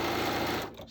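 A sewing machine runs fast, stitching quilt pieces with a quarter-inch seam two at a time, a steady close-up whirring hum that slows and stops near the end.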